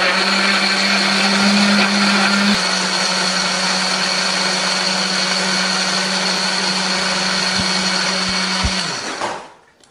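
A blender runs steadily and loudly, pureeing red chili, shallot, garlic, ginger and a little water, with a constant whirring drone that holds for about nine seconds before spinning down and stopping.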